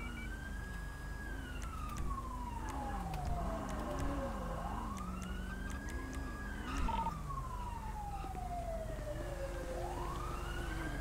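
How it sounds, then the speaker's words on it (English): Police cruiser siren in the FiveM game sweeps up and down in a steady wail, fairly loud and continuous, with faint vehicle and radio noise underneath. "I gotta go get my cruiser, turn the sirens off."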